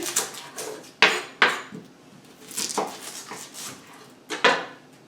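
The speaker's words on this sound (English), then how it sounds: "now I'm going to go ahead and chop up my onion very fine" A knife chops an onion finely on a board, irregular sharp knocks and taps close by with a few louder strikes between softer cuts, no voices.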